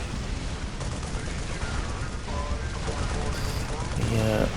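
Vendetta gunships in Dawn of War: Unification firing lascannons at infantry in a Renegade Guard battle, a dense continuous barrage of loud gunfire and explosions with a brief voice near the end.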